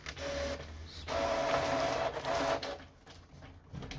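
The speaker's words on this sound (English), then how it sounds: "printer took it back in, I guess, to align based on what it printed already." A Canon Pixma TR7020 printer pulls a printed alignment page back in, giving a steady mechanical whirr and feed-roller hum. The motor runs in bursts with short pauses between them, close and alone, with no talking.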